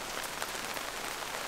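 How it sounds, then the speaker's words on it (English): Rain falling on a campsite beside a dam: a dense, steady hiss of drops pattering on surfaces, constant and close with no voices. "Started drizzling probably around midnight, on and off"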